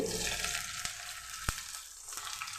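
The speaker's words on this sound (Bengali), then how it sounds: "দিয়ে ভালো করে ভেজে নেব।" Chopped onion and garlic fry in a pan with a steady, close sizzle, broken by a few sharp stirring clicks, with no talking.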